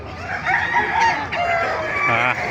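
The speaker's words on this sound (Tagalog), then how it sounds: "papakita ko sa inyo mga manok dito sa Bukawi" Chickens and roosters at a poultry market in Bocaue, Philippines, with several overlapping crows and clucks, loud and close, continuing through the whole stretch against a busy background.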